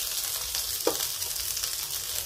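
Onions sizzle in a hot pan for a spicy coconut-milk vegetable stew with chicken liver and shrimp, a steady close frying hiss with one brief stir scrape partway through.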